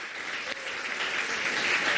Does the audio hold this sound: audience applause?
yes